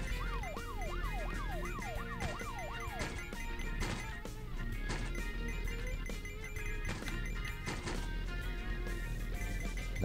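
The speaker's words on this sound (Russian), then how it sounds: "Оп, сирены включились." A wailing vehicle siren in the game Hill Climb Racing sweeps up and down rapidly for a few seconds amid synthetic engine noise and sharp crashes, with a busy game soundtrack continuing underneath.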